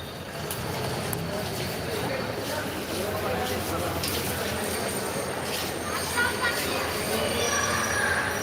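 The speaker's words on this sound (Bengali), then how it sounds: "ট্রেন এসে গেল।" A train pulls into Sylhet railway station in Bangladesh with loud rolling rumble and high wheel squeals. Platform crowd noise and voices run underneath the whole time.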